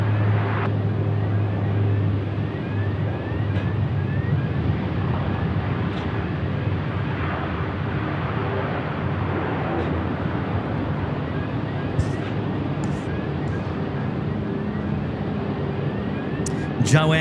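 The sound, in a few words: airliner on runway at Sydney Airport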